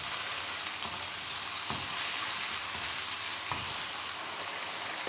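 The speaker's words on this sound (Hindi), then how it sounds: "तकरीबन 2 से 3 मिनट मैंने गाजरों को फ्राई किया है चिकन के साथ।" Carrots frying with chicken in a pan give a steady, close hiss of sizzling oil with a few soft stirring knocks, and no voices.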